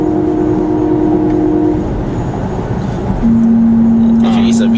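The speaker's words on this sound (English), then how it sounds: "You can hear the pipe in engine noise, engine sound." An artificial engine sound played through a car's cabin speakers, a steady synthetic drone that shifts to a new pitch partway through, heard from inside the moving car.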